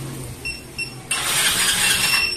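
A motorcycle engine cranks without catching, held back by an anti-theft lock: a few faint mechanical clicks and tones, then a sudden loud, harsh grinding whir of the starter that runs steadily to the end.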